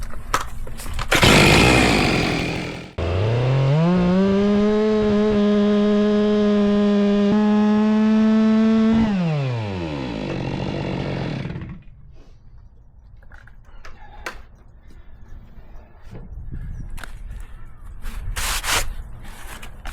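A Stihl MS 462 chainsaw slices through a dried black locust (Robinie) trunk: a loud, close engine rises to a steady high-revving whine for several seconds, drops as the cut finishes, then idles and clatters more quietly.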